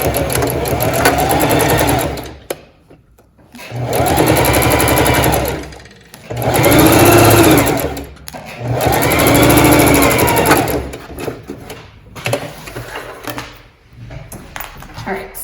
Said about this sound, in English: So let's go sew this, tracing my stitch line again.